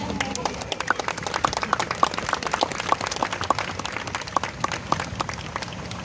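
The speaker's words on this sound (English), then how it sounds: "Let's give them a round of applause, guys." An audience at a K9 SWAT demonstration in McAllen, Texas applauds, with scattered, uneven claps over background crowd noise and a few faint voices.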